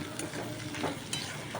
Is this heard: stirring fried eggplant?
yes